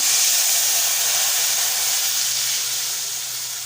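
A loud, steady hiss and sizzle from tamarind water hitting a hot pan, close up, slowly easing off toward the end.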